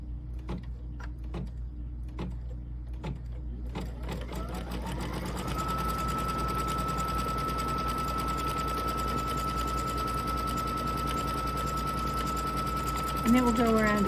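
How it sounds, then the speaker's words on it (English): A sewing machine stitching background fabric for a quilted project, starting with a few separate needle thumps before settling into a steady, continuous mechanical whir close by, with no voices. "going to stitch around that same place, but now we have our background fabric on it"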